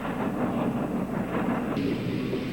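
Railroad cars haul sand and gravel to a concrete mixing plant at a dam construction site, giving a steady, dense rumble with faint rhythmic clatter that runs unbroken throughout.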